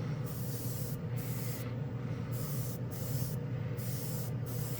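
An airbrush sprays A-Stand gloss black base primer in short bursts, a soft steady hiss that switches on and off about five times over a low background hum.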